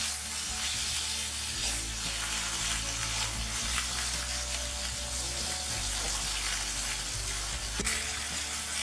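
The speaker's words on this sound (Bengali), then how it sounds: "এইবার এই তেলের মধ্যে মাছটা হালকা করে একটু কিছুক্ষণ নাড়াচাড়া করে দেব।" Small baby rohu fish fry in hot oil in a home kitchen and are gently stirred, giving a steady, close sizzle and crackle that runs unbroken throughout with faint scraping of the stirring, no voices.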